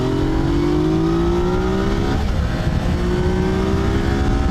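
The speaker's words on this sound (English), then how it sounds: "I'm getting some buffeting." Wind buffets a rider at around 90 on a 2020 Yamaha Tracer 900 GT motorcycle: a loud, steady broadband roar with the engine droning underneath throughout, and no talking.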